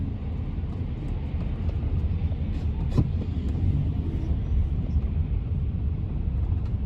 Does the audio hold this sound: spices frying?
no